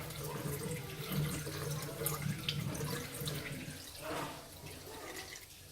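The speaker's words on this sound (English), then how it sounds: "Continue dumping the water out." Water poured and dumped out of a container while washing fig seeds free of their flesh, a continuous splashing, trickling flow close by with a brief louder gush near the end.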